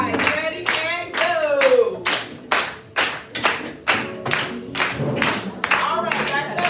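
A group at a hair coloring lesson claps in turn around a circle, producing a rapid series of sharp, evenly spaced hand claps and thumps, close and loud, with voices mixed in.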